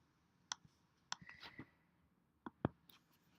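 Sparse, quiet clicks of keyboard arrow keys while placing text on a path in Adobe Illustrator, a few isolated taps spaced irregularly with a faint murmur between them.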